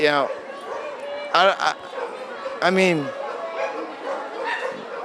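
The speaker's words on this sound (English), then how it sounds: "these dogs need homes, and I hope every dog here gets adopted" Dogs bark, yip and whimper at a pet adoption expo, with sharp barks in short bursts over constant crowd chatter and a person talking nearby.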